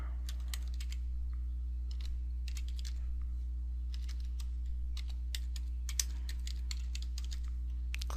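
Project name being typed on a computer keyboard in a dialog box, a quick run of light, close keystroke clicks in uneven bursts over a steady low hum.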